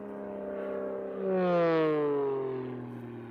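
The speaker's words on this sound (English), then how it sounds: "airplane accelerates through about 180 knots" An aerobatic airplane at the US National Aerobatic Championships accelerates through about 180 knots in a competition routine: a steady droning engine note that climbs in pitch and swells louder midway, then eases slightly, with no voices.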